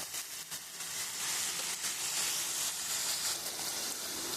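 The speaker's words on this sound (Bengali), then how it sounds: "এই মশলাটা একটু কষিয়ে নেব আগে" Spices frying in a pan for a jackfruit and egg curry give a steady, bright sizzle, moderately close and continuous, with faint clinks and stirring underneath.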